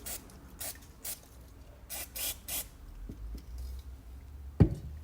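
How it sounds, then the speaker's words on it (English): Several short hissing bursts of contact cleaner from an aerosol can, sprayed close by onto a Volvo S80 D5 MAF sensor, separated by pauses, followed by a few faint clicks and one sharp knock. "spray a bit of contact cleaner onto this"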